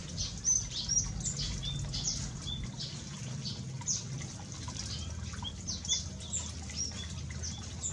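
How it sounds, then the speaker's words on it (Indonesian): A grey-headed babbler of the genus Stachyris gives faint, high chirps and short calls inside an aviary, repeated irregularly over a soft, steady background hum. "Burung tepus kepala kelabu ini berasal dari famili Timalidae dan genus"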